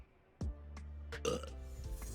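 A game character in Hogwarts Legacy burps as a polyjuice potion wears off. A sharp onset leads into a few short throaty eruptions over a droning background.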